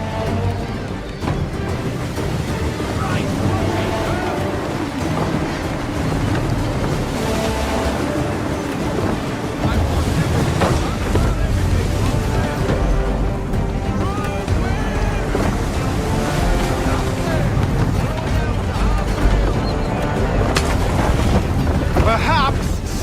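A sailing ship moves through wind and waves in Assassin's Creed III. A steady loud wash of rushing air and surging water continues throughout, with other sounds layered over it.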